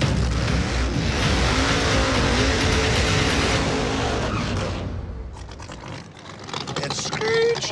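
A no-prep drag race car roars loudly at full throttle down the strip during a street outlaws race, the engine noise fading after about five seconds as voices carry over the quieter end.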